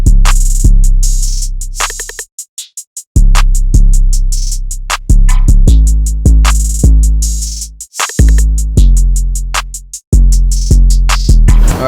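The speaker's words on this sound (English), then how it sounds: "so for all the drums, I use the sounds from my drum kit. Y'all already know. It sounds like this." Hip-hop drum kit beat from a producer's own sample kit, with heavy booming low hits and crisp top percussion in a looping pattern, loud and alone, with a brief dropout partway through.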